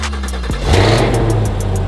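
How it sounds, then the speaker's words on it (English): A car engine cold-starts up close: a brief starter crank, then the engine catches with a loud rev and settles into a fast, steady, loud idle. It is heard alone, with no talk. "Cold start."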